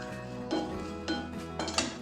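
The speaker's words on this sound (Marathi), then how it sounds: "तर गरम कढईत आपण खोबऱ्याचा किसही भाजून घेऊ" Grated coconut roasting over low heat in a hot kadhai, stirred with a metal spoon; a few scraping strokes and clinks against the pan in a slow rhythm, close and fairly quiet, with no speech.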